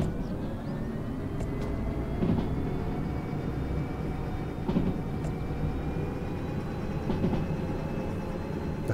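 A locomotive in the Derail Valley train-driving game, accelerating with a steady low rumbling drone and faint rising whine, alone with no voices.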